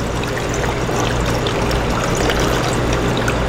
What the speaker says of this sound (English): And we're going to pour it right through here.